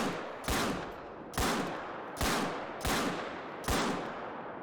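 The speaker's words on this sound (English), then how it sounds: "And this has got 6 shots." Loud, sharp shots from a Rolleston .45 handgun in the hunting game theHunter: Call of the Wild, fired in quick succession, with about five evenly spaced reports and a short echoing tail after each.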